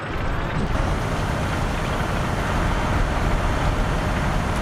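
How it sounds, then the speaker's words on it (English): A Cromwell tank engine in a World War 2 video game gives a steady, dense, low rumble with a broad roar, continuous and even throughout, with no talking. "they're listening to the sounds of the Cromwell's engine"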